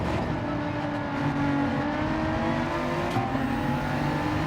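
Race car engine in Gran Turismo 7, a loud steady high-revving whine with layered harmonics that shift slightly as the car holds speed, continuous and close, with no talk over it.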